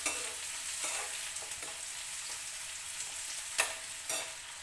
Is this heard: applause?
no